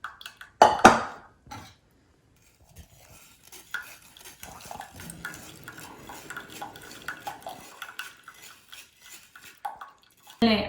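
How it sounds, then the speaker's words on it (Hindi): Simmered pumpkin spice coffee syrup strained into a cup: soft clinks of a strainer and utensil against the cup, a sharp clatter near the start, then a stretch of quiet pouring and stirring noises. "स्ट्रेनर लेना है, कोई सी भी चीज़ ले लें, कप ले लें, कुछ भी, आप उसमें इसको स्ट्रेन कर लें"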